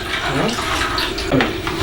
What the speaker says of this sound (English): So I now whisk my beans very well.